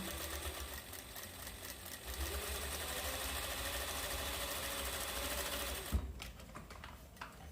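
A sewing machine stitches teddy bear fabric with a steady, fast mechanical whir that runs unbroken for several seconds, then stops with a small clunk, leaving a few faint clicks.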